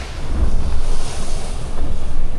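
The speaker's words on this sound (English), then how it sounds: "this trawler smashes through waves without losing momentum" Ocean waves slap against the tall, heavy hull of a trawler explorer yacht underway, a steady roaring wash of water with strong wind buffeting the microphone throughout.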